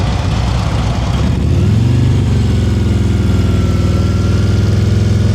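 A motorcycle engine idles low, then its revs rise and hold steady during slow-speed riding practice in North Carolina, a close, continuous throttled drone with a slight pulsing rhythm and no talking.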